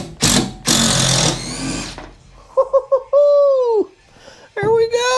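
A power driver fitted with a Torx bit backing a screw out inside a van, loud close whirring bursts with pitch rising and falling as the motor starts and stops, followed by louder buzzing spins.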